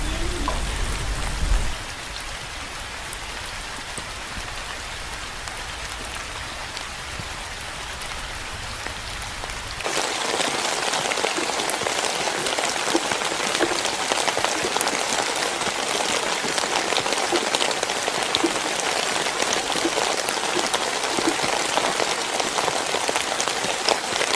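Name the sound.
gentle rain falling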